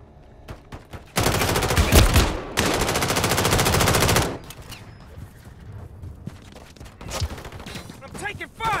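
Heavy rapid gunfire in the Call of Duty video game breaks out in a loud sustained burst of about three seconds, followed by scattered shots and battlefield voices.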